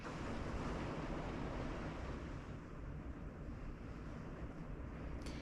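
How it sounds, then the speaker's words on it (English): Rain pours steadily outdoors as a dense, continuous hiss, mixed with gusty wind buffeting the microphone. "I just wanted you to hear the rain right now"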